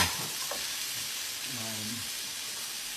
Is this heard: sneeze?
no